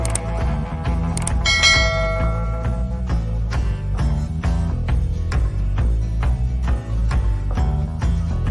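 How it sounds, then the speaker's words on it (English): Bells ring in a steady, repeating pattern over a rhythmic musical backing, with bright struck tones sustaining for over eight seconds at moderate loudness. "And the bell is ringing for you to give us a like."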